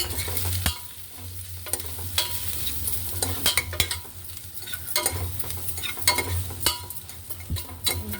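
Turmeric, chili powder and garam masala stirred into hot oil in a pan, with a continuous low sizzle and frequent sharp scrapes and clinks of the spoon against the pan, close and alone.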